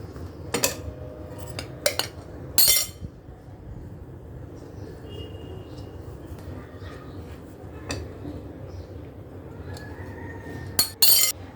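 A spoon stirs and mixes cake batter in a bowl, giving sharp metallic clinks and knocks in irregular clusters, separated by quieter stretches of soft scraping.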